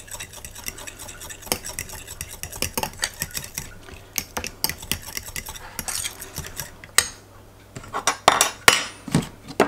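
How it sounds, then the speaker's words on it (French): Lemon juice being mixed into cream in a bowl for a lemon cheesecake tart, with a utensil clinking and scraping against the bowl in quick, irregular strokes, close and fairly loud, with no talking. "je viens déjà incorporer le jus de citron avec la crème pour que ça soit plus facile à mélanger"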